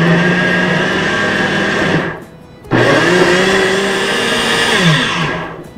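A kitchen blender whirs loudly, blending banana oatmeal pancake batter with chia seeds, running steadily, stopping briefly for about half a second, then starting again and running on before winding down.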